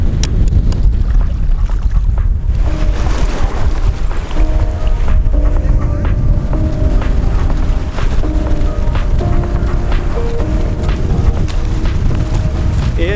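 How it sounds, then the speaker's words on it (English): Heavy wind roars and buffets the microphone nonstop on a Maldives beach, with a rumbling outdoor wash and faint tones drifting underneath. "This wind is wild."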